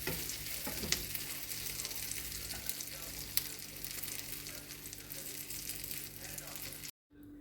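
Dal (lentil) tikki patties fry in oil on a pan, giving a steady close crackling sizzle with small pops that runs unbroken before cutting out near the end.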